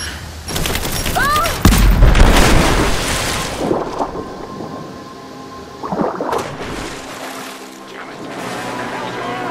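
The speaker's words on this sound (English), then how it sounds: "grenade!" A grenade goes off in the video game Rise of the Tomb Raider, a loud close rumbling blast that builds early and rolls on with debris and echoing booms, followed by lighter crackling and another smaller swell, with voices mixed in.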